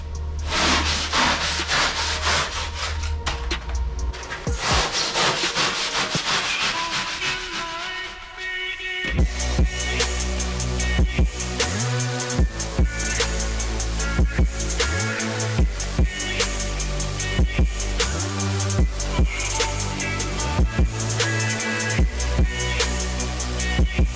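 Foam body kit arches for a car are cut and sculpted with continuous rough rubbing and rasping strokes, then a rhythmic series of repeated scraping passes.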